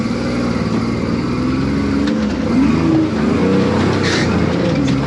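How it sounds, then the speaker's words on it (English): A 4x4 rock crawling rig climbing at full throttle, the engine roaring loud and close with a steady, strained drone and shifting revs throughout. "Never done that climb not at full throttle before,"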